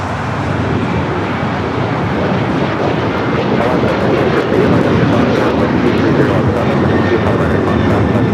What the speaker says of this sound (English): That is United Airlines 1298 taking off to Tampa, Florida on the 737-900 ER.